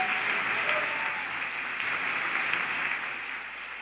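A church congregation at a Spanish-language service applauds in a steady, dense wash of clapping that carries evenly through the whole stretch without a break.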